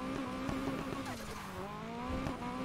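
A Nissan Silvia drifting in Need for Speed Heat, its engine holding a steady, buzzing drone with small pitch dips as the car slides, faint tyre squeal mixed in, heard fairly quietly and with no talk.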